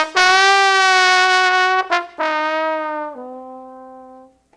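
A solo trombone plays a sustained, rich brass melody from a movie medley, holding long notes with a brief break and a lower closing tone that fades out, clear and close with no voices.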